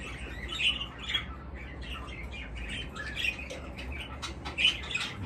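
Budgerigars in an aviary squawk and chirp continuously, a busy flock of overlapping sharp calls and tweets at close range, with no talking.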